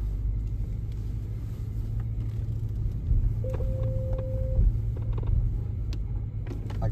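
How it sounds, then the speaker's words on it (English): A Porsche 971 Panamera with a PDK transmission is out on a test drive after recalibration. Its steady low cabin rumble holds throughout, with small mechanical clicks and a brief whirring tone in the middle. "We're gonna go ahead and for first test drive and see how it is."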